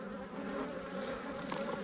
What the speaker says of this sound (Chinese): 这里有一窝蜂